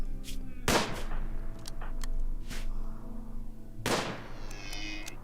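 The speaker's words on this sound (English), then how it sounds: "Oh my god, the gunshots are so loud." Two sharp, loud gunshots about three seconds apart in RimWorld cut through a steady hum of game background noise, each with a quick reverberant tail.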